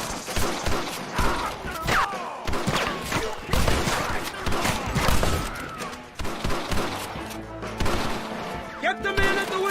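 A Red Dead Redemption shootout crackles with repeated close gunshots, scattered ricochets and creaking mechanical clatter, layered with background shouting and chaotic battle noise throughout.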